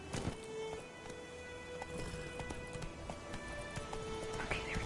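Horse hooves in The Witcher 3 give a faint, steady clip-clop over a soft, rain-like hiss of background ambience.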